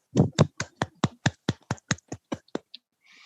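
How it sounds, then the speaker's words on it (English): Applause for the moderator of a conference Q&A session: a dozen or so sharp, evenly spaced hand claps at a steady pace, growing gradually softer before stopping. The claps are close and crisp, with no voices. "Let's give a round of applause to the moderator"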